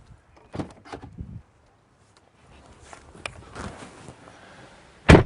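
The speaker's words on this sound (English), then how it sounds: "it welcomes you by putting the door handles out." Tesla Model S flush door handles motoring outward as the key approaches: soft mechanical whirring in two short bursts, followed by a sharper click at the end, quiet and close.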